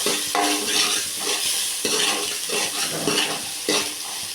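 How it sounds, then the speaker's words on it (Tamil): Finely chopped small onions sautéing in hot oil for a puri kurma, a close sizzle broken by repeated rhythmic stirring scrapes of a spoon against the pan, no voices. "வெங்காயத்தை நல்லா வதக்கிக்கலாம்"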